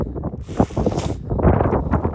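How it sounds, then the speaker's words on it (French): Strong wind buffets the microphone in rough gusts in the Breton mountains, with a low rumble and a brief airy hiss partway through. "Il y a trop de vent"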